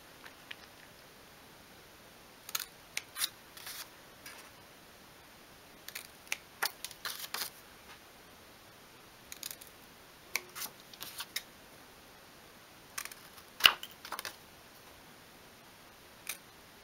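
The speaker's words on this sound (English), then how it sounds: "we're just going to snip out each of those corner sections" Small scissors snip out corner sections of material for a pair of 1/12 scale miniature suitcases, giving sparse, crisp, close clicks in scattered pairs and clusters against a quiet background.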